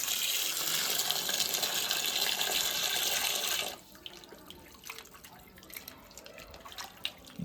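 Tap water gushes loudly into a sink while mutton is washed, then cuts off partway through, leaving soft drips, splashes and handling noises.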